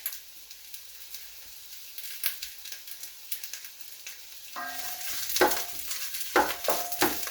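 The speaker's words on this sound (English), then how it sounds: "So now we are just going to fry the onions." Onions frying in a pan for a beef and vegetable soup, a soft background sizzle that swells into louder crackling and popping bursts partway through, with no voices.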